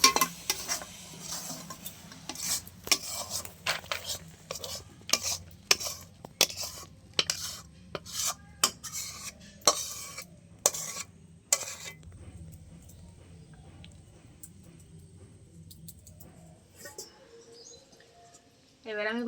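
Semolina (suji) being stirred and roasted dry in a pan, a rapid run of close scraping clinks of a utensil against metal that fades out after about twelve seconds, with birds chirping faintly and a voice speaking.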